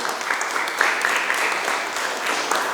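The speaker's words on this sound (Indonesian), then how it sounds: "Tepuk tangan dulu untuk Tuhan yuk." A church congregation at a Sunday worship service applauds steadily, a dense and even wash of many hands clapping throughout, with voices faintly mixed in.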